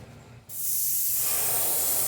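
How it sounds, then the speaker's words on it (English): A spray gun painting a wooden crankbait fishing lure bursts into action with a sudden, steady hiss of paint spraying that continues loudly and evenly after a quiet moment. "See if we get a little better spray action on it."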